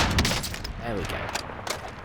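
Quick, faint bursts of submachine-gun fire from a Type 63 SMG build in Call of Duty: Warzone crackle in short rapid clusters over a low background of game sound.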